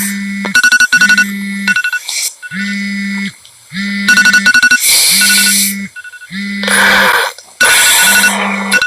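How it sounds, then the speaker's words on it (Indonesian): An electronic alarm beeps loudly in repeated rhythmic bursts, with brief gaps between patterns, close and insistent. "berisik banget sih alarm"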